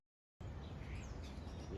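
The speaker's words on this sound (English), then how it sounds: "You hear those birds?" Several birds chirp and call outdoors in a steady, fairly loud wash of natural ambience that starts abruptly after a short silence, with thin high calls rising over a dense low background.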